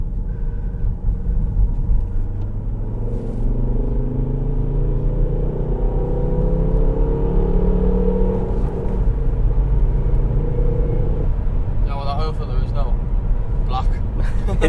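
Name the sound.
Volvo V50 D5 car driving on a short test drive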